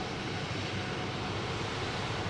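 A JetBlue Airbus A220 arriving from Houston at Boston Logan Airport, heard as a steady broadband jet roar with a low rumble, constant and fairly loud throughout, with no voices.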